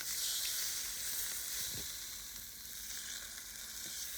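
Pork skin searing in a skillet, a steady close hissing sizzle with a brief soft knock near the middle, continuous and unaccompanied by voices.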